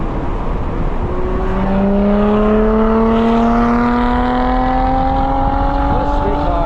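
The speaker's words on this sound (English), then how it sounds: "We're gonna let this Lotus behind us pass us by." A Lotus race car overtakes a Honda S2000 on a racetrack, its engine pitch rising steadily through the gears over the S2000's constant cabin roar and wind noise.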